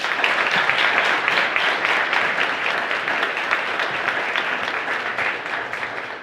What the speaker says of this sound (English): let's clap it up for Demon Dude.